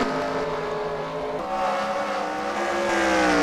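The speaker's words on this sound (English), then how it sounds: "Oh, we got a car going slow." A Formula E race car running slowly on the Canadian Tire Motorsport Park track, its electric motor whine rising and falling in pitch at moderate distance, steady and unaccompanied by speech.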